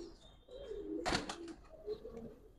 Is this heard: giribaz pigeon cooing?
yes